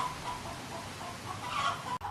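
A small flock of chickens clucks steadily and softly at close range, a short burst of overlapping calls with no voices.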